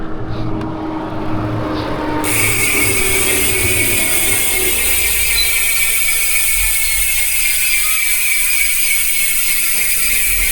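A bicycle freewheel spins with a fast, steady ticking whir that starts abruptly and carries on continuously, close and fairly loud.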